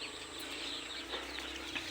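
Young cockerel chickens about twenty-five days old cluck and chirp steadily inside a small crowded shed, a soft continuous flock chatter with a few brighter calls rising now and then.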